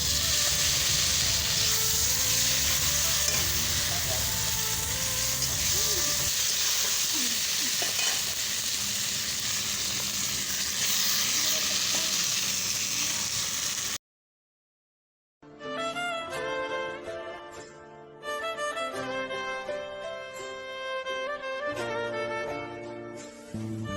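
Onion and potatoes fry together in a pan with a strong, steady sizzle and the occasional stir for about fourteen seconds; after a short silence, tuneful background music takes over.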